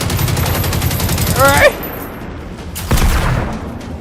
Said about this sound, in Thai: ยิงอะไรนักหนา บ้านมึงผลิตกระสุนเหรอ